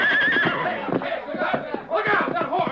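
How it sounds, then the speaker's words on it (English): A horse neighs loudly and close, with shrill whinnies over a commotion of hooves and shouting voices in a Western-style scene. "Look out, that horse."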